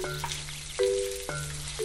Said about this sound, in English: We're just gonna brown up the sausage here